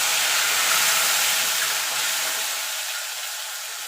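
Green chili-ginger paste dropped into hot tempering oil, a loud, close burst of hissing sizzle that begins at full strength and slowly fades over a few seconds.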